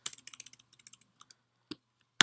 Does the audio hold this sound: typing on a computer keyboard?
yes